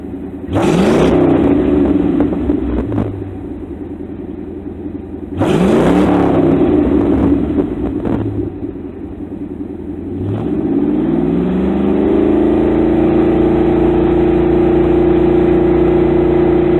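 A Pontiac Trans Am V8 with glasspack exhaust runs loud and close, blipped twice in sharp revving bursts that fall back to a burbling idle, then settles into a steady higher fast idle.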